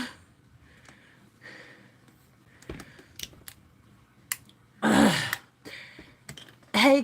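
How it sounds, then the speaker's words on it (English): Several short coughs and throat clearing, scattered among small clicks and shuffling, with two louder harsh coughs near the end. "Can y'all hear me coughing all the way up the steps?"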